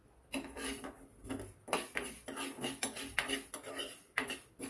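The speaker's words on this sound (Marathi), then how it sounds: "प्रथम मेथीचे दाणे चांगले भाजून घेऊया।" Fenugreek seeds dry-roasting in a kadai on a gas stove for bilimbi pickle masala: a spatula repeatedly scrapes and clinks against the metal pan in an uneven rhythm, close and moderately loud, with no talking.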